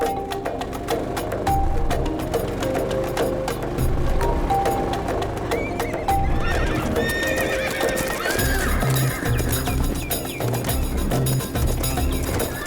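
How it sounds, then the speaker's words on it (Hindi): Several horses at a market neigh and whinny loudly while hooves clip-clop in quick irregular beats close by, a busy, crowded herd sound with repeated calls throughout. "इतने सारे घोड़े यहाँ कैसे?"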